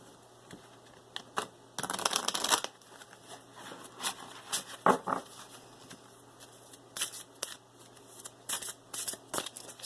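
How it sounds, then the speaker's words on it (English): Close-up, a deck of message cards is shuffled in irregular bursts: one longer riffling flurry, then scattered soft taps, snaps and brief rustles against a quiet background. "Shuffle one more time."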